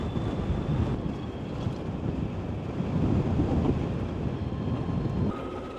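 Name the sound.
wind blowing on electric motorcycle ride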